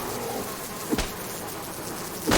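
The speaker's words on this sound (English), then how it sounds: "the swarm of bees will actually chase you" A swarm of bees buzzes around a broken beehive in the survival game Subsistence, a dense continuous drone with a couple of short thumps breaking through, loud and close.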